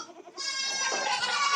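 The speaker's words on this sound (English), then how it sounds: "I want to get the goat sound." A goat bleats loudly and close, one sustained, wavering cry after a brief softer lead-in, with no talk over it.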